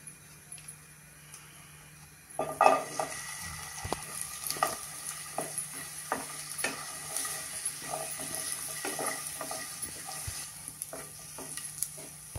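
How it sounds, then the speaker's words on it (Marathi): Dates roasting in ghee in a pan give a steady sizzle that swells after a quiet start, with scattered clinks and scrapes of stirring over the crackle. "थोडस तूप घालते आणि आपण त्याच्यावरती खजूर भाजून घेऊया"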